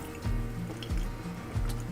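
Water dripping and splashing from an opened tap in an RV plumbing system, three distinct drops or spurts about two-thirds of a second apart, close and fairly quiet.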